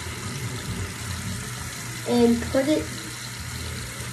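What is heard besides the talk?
hot water running from bathtub tap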